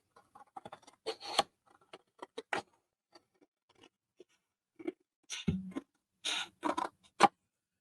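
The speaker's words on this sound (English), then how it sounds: "I can just snip off this bit" Scissors snip through a piece of watercolour or gouache paper in a few short, crisp cuts, close and fairly quiet, with small handling taps between them.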